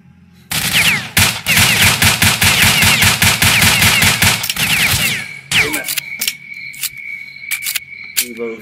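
Gunfire in the video game S.T.A.L.K.E.R. Shadow of Chernobyl: a long, loud burst of rapid shots, then a brief pause and sparser sharp shots with a lingering ringing tone.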